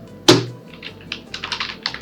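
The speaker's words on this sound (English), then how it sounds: "So after accessing that, I am typing mobile 1," Typing on a computer keyboard during design work, with a sharp knock at the start followed by a quick run of light, close keystrokes in an uneven rhythm.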